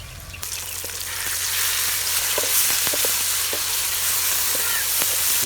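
Chopped onions fry in oil in a pan as tomatoes are added, giving a steady, close sizzle with faint stirring clicks throughout.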